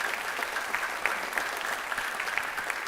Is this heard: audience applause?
yes